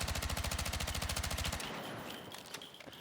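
Rapid automatic gunfire from a weapon in Battlefield 6, a fast even burst of close, loud shots lasting about a second and a half, then the fading tail of the shots.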